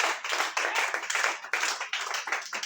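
A church congregation claps together in praise of Jesus, dense rhythmic handclaps filling a hall, loud and continuous, with no talking over them.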